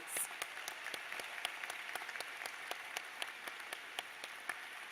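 Applause for student volunteers at a university spring commencement ceremony for the arts and sciences: a steady, moderately distant patter of many clapping hands that carries on throughout.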